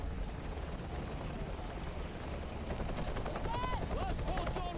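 A helicopter carrying an injured passenger approaches a hospital helipad in a medical drama, sounding as a steady, loud rotor drone that fills the whole clip.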